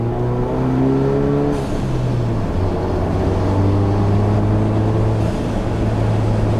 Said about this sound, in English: the turbo blow off is definitely more noticeable. The exhaust note is definitely more